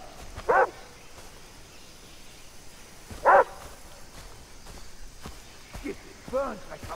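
A dog in the video game Far Cry barks in a few separate loud yelps spaced seconds apart, with faint game ambience in between and a softer whimpering bark near the end.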